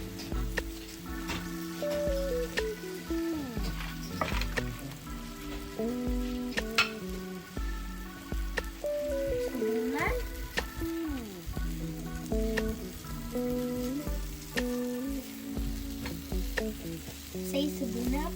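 Cashews fry in desi ghee in a pan for suji halwa, a continuous close sizzle with stirring running throughout, partly under steady tonal background sound.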